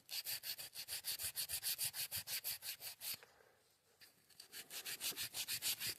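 Wire brush scrubbing an aluminum hub motor down to bare metal, strokes repeating in a steady rhythm, pausing briefly in the middle, then resuming.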